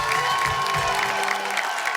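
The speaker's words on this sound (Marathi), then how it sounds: "का जोरदार टाळ्या होऊन जाऊ दे." A TV show audience claps and cheers for a couple of seconds, a dense burst of applause with scattered shouts that drops off toward the end.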